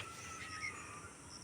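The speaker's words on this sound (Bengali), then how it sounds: "মাঝে মাঝে পাখি ডাকছে" Faint, high bird chirps drift in now and then over a quiet outdoor hush at an open playground, with a soft breeze swaying tree leaves.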